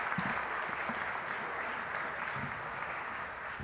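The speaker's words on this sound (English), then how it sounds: "Let's give them a round of applause." Steady applause from a crowd at a Martin Luther King Jr. community celebration in Newton, dense clapping filling the whole moment at an even level, with faint voices underneath.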